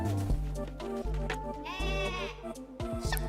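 Sheep followers in Cult of the Lamb bleat in cartoonish wavering cries over steady game music, several bleats overlapping in quick succession, close and clear.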